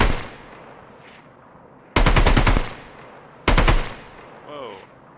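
In a video game, a machine gun fires two loud sustained bursts, each about a second long, close and sharp, with a voice talking faintly beneath.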